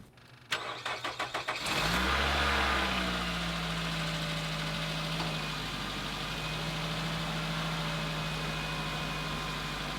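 A car engine cranks in a quick series of rhythmic turns after a battery replacement, catches and settles into a loud, steady idle, close up with no talking.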